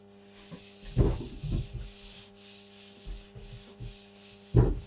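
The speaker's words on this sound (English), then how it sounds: "that's just some clean spirit that I'm using to wipe up the surface and remove any sanding dust" Short bursts of a cloth dampened with spirit rubbing across a sanded wooden vanity surface, a few strokes spaced unevenly and heard close up against a quiet, faintly humming background.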